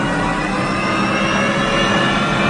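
The 1959 GM Firebird III gas turbine engine runs with a steady, loud, close roar and a high whine layered over it, holding constant throughout.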